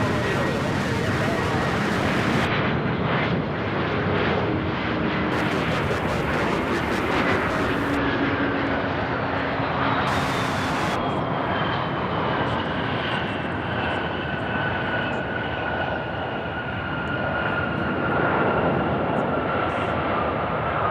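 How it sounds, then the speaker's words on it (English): A regional airliner landing at Charlotte Douglas International Airport, a loud sustained roar of jet engines with a whine that rises and falls as it passes, heard outdoors with a voice talking intermittently over it. "Have a little regional flight coming in."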